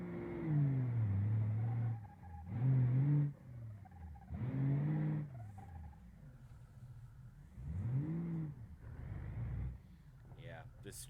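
Engine of a Gavril Roamer LXT35 truck driven in the BeamNG.Drive video game, revving in repeated surges that rise and fall in pitch, with a lower idle between bursts.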